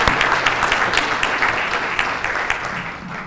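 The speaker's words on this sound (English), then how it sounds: "Please join me in giving a round of applause for our students' special guests." A standing audience at a medical school white coat ceremony gives a warm round of applause for the students' guests, a thick, continuous wash of many hands clapping at even loudness throughout.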